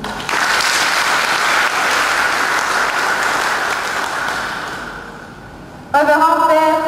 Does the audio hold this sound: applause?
yes